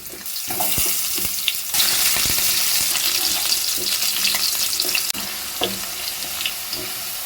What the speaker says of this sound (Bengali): মাছ ভেজে নেওয়ায় তেলের মধ্যে আমি লম্বা লম্বা কেটে রাখা আলুর টুকরোগুলো দিয়ে দিচ্ছি